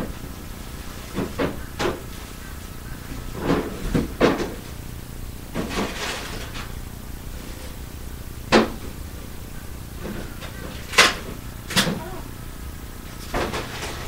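A drawer slides and knocks shut several times in a row indoors, giving sharp wooden bumps and scrapes at an uneven pace with quiet gaps between them.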